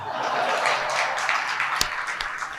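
An audience at a religious discourse gathering claps in loose, continuous applause, moderately loud and spread out, with a few scattered chuckles.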